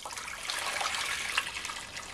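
Hot water is poured into a pot to start a sugar syrup, a steady, bright splashing stream that runs continuously for a couple of seconds at close range with no voices.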